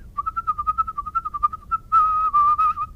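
A person whistles a lively, steady tune, the notes quick and close, growing louder and fuller toward the end.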